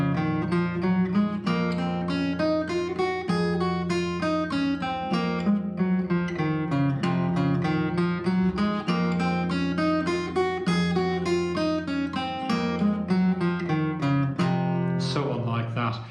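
On guitar, flowing triplet figures ring out over a sustained low F held in minims, an exercise from a guitar piece, played close and clear throughout with no talking.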